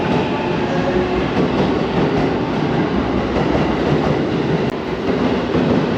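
A Narita Express train's steady broadband rumble and hiss fills a Shinjuku station platform, with a constant rolling drone and a faint brief squeal near the end.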